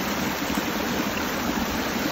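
A small waterfall stream in a video game gives off a constant even rushing hiss, steady and unbroken for the whole moment, with no voices over it.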